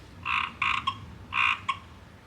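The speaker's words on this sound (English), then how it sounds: "Well, that's a weird frog." A frog croaks in short, rasping bursts, two grouped calls with brief pauses, close and clear over faint background noise.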